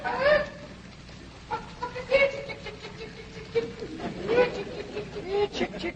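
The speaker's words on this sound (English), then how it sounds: "Jethro, go on out there and catch us a chicken." Chickens on a farm: a few short, scattered clucks, mid-distance, mixed with people talking, pattering movement and background noise.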